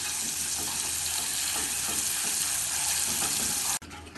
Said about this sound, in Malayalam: ഇനി ഇതിലേക്ക് സ്പൂൺ ബട്ടർ ചേർത്ത് ഇളക്കി മിക്സ് ചെയ്യാം.